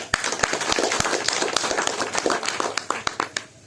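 An audience at a business seminar claps: a run of sharp, fairly evenly spaced claps from a small crowd, moderately loud, with a little murmur in the room.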